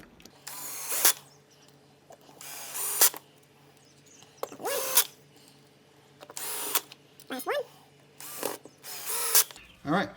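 A cordless drill with its clutch set low drives screws back into a casement window crank operator, short whirring bursts repeating about every one to two seconds, near and moderately loud, alone.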